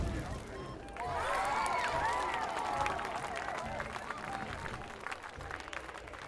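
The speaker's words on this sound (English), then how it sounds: "Nobody's clapping, but I hear clapping." During a Witcher 3 game session, a small crowd applauds and claps in the game, the sound rising after a quiet opening and then tapering off, mixed with murmuring voices and tonal sounds from the game.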